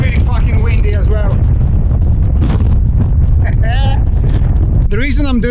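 Strong coastal wind near Speke's Mill Mouth waterfall in England buffets the microphone with a loud, constant low roar, while a voice speaks over it.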